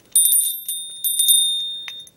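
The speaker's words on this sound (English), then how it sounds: "My bell." A small ritual bell rings several times in quick succession, bright and close, each strike leaving a clear ringing tone that decays, with a last lighter tap near the end.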